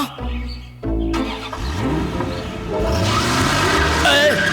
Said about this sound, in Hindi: ये गड्डी कैसे चल पड़े?